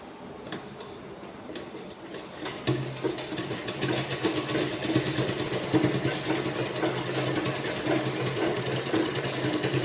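A sewing machine stitches the collar of a girl's school uniform, its motor whirring and needle ticking rapidly and steadily at close range, rising slightly in loudness as it goes on, with no speech.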